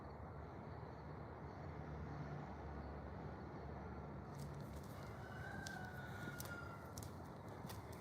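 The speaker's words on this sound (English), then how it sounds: "Can you guys hear the chickens?" Chickens in a neighbor's yard across the street, distant and faint behind steady outdoor ambience, with a rooster-like call and a few thin cries rising near the end.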